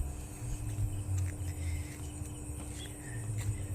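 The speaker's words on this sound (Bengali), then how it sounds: "ফরেস্টের মধ্যে তো মানে খুব ঝিঝি পোকার ডাক," Crickets chirp in a forest at night near a garden in Bankura, West Bengal, a faint, steady insect trill spread through quiet outdoor ambience with no talking.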